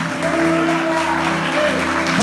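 Church congregation clapping during a Brazilian sermon, a steady wash of applause mixed with sustained organ or keyboard tones, moderately loud and continuous.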